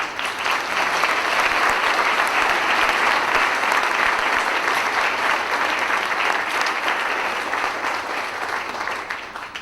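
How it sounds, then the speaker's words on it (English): A panel discussion audience in Washington D.C. breaks into sustained, dense applause that holds steady for several seconds before tapering slightly at the end. "Let's have a round of applause for our audience."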